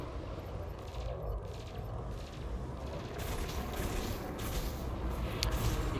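Frag cannons and plasma cannons fire in rapid, rumbling volleys from a Kestrel Mk2 ship in Elite Dangerous. The barrage grows louder and denser partway through, with sharp bright cracks toward the end.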